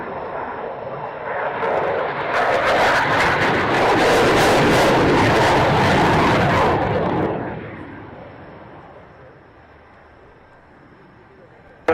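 Aircraft taxiing on the northern taxiway of an airfield, a loud, steady broadband engine roar that builds, holds for several seconds, then eases into a fading hum.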